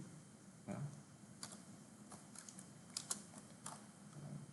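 A computer keyboard clicks with scattered soft keystrokes, alone and fairly quiet. A few sharper taps come in an irregular rhythm.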